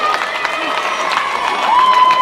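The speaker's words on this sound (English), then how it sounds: "as you could probably tell from the roar of the crowd" A home crowd at a South Hobart versus Olympia football match in Tasmania's NPL roars loudly as a substitute comes on, a sustained wash of cheering with a commentator talking over it.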